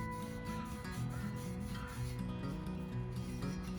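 Scotch-Brite pad scrubbing dirt and carbon off the edge of an engine piston, a steady rhythmic rubbing rasp repeating in quick strokes, close and continuous.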